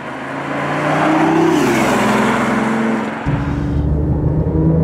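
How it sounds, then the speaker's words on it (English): Synthetic engine sound of a BMW i8 three-cylinder plays through the cabin speakers, a loud revving drone rising in pitch under acceleration, then dropping sharply with a gear change. "And all that is fake and it's piped in through the speakers."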